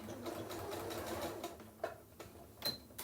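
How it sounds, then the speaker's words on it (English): Sewing machine running a short back stitch at the end of a seam on a candy-corn colored placemat, a quick close mechanical whir followed by a few light clicks and taps. "Get to the end, do a little back stitch"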